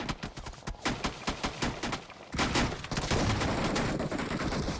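Gunfire in PUBG Mobile cracks from a distance in a quick, rhythmic string of bursts, then gives way to a dense, steady roar of firing and noise that holds at a fairly loud level.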